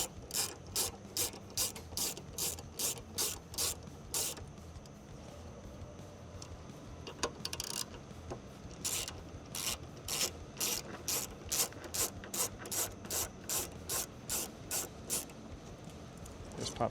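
A ratchet clicks in quick repeated bursts while a T10 Torx fastener is backed out to remove a lever inside a fifth-generation Chevrolet Tahoe, close and crisp, with short pauses and a faint voice.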